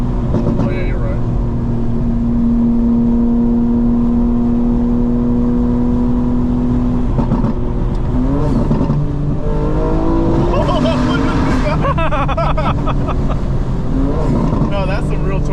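A 900hp 2025 BMW M4 Competition xDrive accelerating hard with a loud, rising engine roar that climbs through gears, close and continuous, with people talking over it inside the car.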